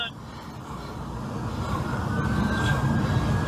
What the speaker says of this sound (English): We got the ambulance coming right now. You can hear him coming.